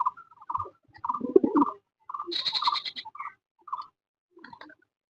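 Pigeons feeding and fluttering about give a busy mix of soft coos and short calls in bursts, with a denser flurry in the middle that may be wingbeats, fairly close and with no talking.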